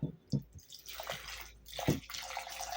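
Water is poured into a pot holding jars of tomatoes that are being sterilized for winter preserving, giving a faint, short splash and trickle with a couple of soft drips.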